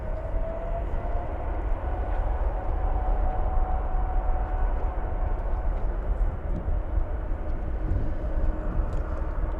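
An airliner takes off at Frankfurt airport: a steady, loud broadband engine roar with a low rumble and a faint sustained whine, holding constant throughout with no talk.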